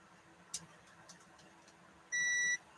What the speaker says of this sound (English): Where's the beep? Show me the beep.